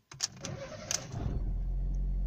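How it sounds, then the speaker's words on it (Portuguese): A car engine is started after a few light clicks, catching after about a second and settling into a steady low idle hum, close and fairly quiet. "Vou ligar o carro."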